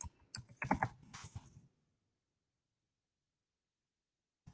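Quick run of computer keyboard typing, a burst of close key clicks lasting a second or two, then silence.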